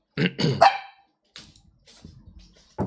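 A pet dog barks indoors: three loud, quick barks up close, then a few fainter woofs and a final bark.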